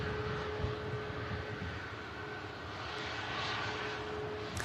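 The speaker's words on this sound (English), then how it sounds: "Ryanair just taxiing out in front of us for Tenerife as well." Ryanair jet taxiing out at Manchester Airport for Tenerife, a steady broadband engine roar with a constant whine, moderately distant and continuous throughout.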